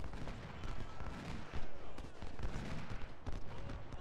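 Battle in the Ultimate General: Civil War game at Mansfield, with dense, continuous crackling musket volleys from brigades firing across the field, sharp reports overlapping in a steady rolling fusillade.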